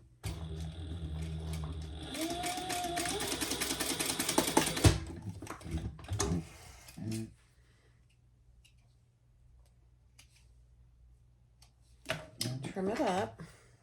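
Sewing machine stitching fabric with wrong sides together, a steady close rapid chatter for about five seconds, then brief handling noises, quiet, and a short burst of stitching near the end.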